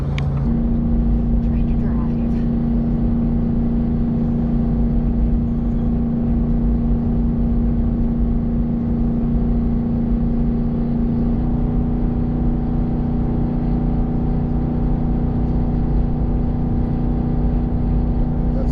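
A Ford F-350 pickup with the 7.3L Godzilla V8 drones steadily while towing a Brinkley fifth-wheel trailer up a 6% grade, a constant low engine hum with road noise under ongoing talk.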